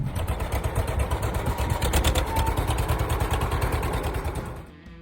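A John Deere Model H tractor engine chugs at a steady rhythmic idle, with a clattery pulsing beat close to the microphone that fades out at the end.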